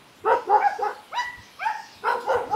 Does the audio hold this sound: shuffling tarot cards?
no